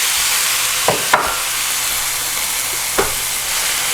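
Crab meat goes into a hot, well-seasoned pan for Cajun stuffed haddock, giving a steady loud sizzle and hiss broken by a few short clicks and scrapes of stirring.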